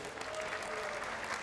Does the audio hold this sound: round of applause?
yes